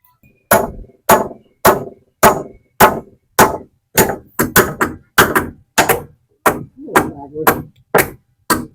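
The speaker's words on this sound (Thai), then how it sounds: "ตอกเลย" Repeated hammer blows driving nails into wood during house construction, about sixteen sharp, loud strikes in a steady rhythm with a brief quicker cluster midway, close up with no talk.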